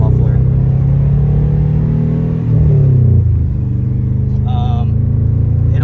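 A 1997 Subaru Outback drives with a steady, loud low engine drone that rises and shifts in pitch, its muffler loose from a scraped-off V-band clamp, with a brief higher metallic rattle near the end.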